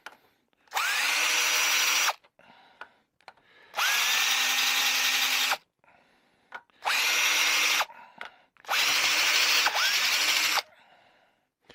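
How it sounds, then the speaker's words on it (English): Power tool deburring drilled holes in a billet aluminum flange cap, whirring in four loud bursts of about two seconds each with brief pauses between, close up, with faint handling clicks in the gaps. "when you get done with the mill, you need to deburr all these holes."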